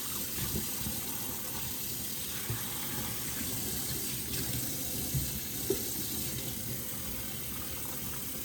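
Water swishes and drains in a kitchen sink as raw beef is rinsed, a steady running, splashing wash with a few small knocks, close and continuous without talk.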